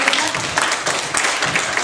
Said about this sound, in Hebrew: מגיע למחיאות כפיים?